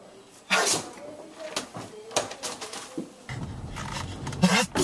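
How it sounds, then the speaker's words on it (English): Loud close sneezes burst out suddenly amid scraping and bumping sounds, with a voice heard between them. "Our sneezes, they're not just loud, they're deadly."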